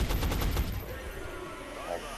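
Rapid bursts of gunfire from X-Com: Enemy Unknown, a quick string of loud, close shots in the first second that give way to a fading rumble and lower background game noise.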